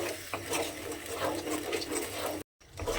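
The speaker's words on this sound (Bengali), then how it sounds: "এই সমস্ত মশলাগুলোকে খুব ভালোভাবে আগে আমাকে একটু কষিয়ে নিতে হবে" Spices sizzle and fry steadily in a pan for egg-poppy seed bharta, a dense, continuous crackle close up with a brief break near the end.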